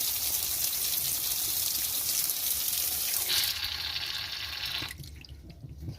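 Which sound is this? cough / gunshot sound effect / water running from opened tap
water running from opened tap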